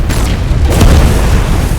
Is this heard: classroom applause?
no